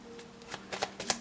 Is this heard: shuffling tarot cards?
yes